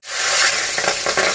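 Cooking oil hits a hot pan before meat is cooked, a loud sudden hiss that holds steady and close, with faint crackling pops.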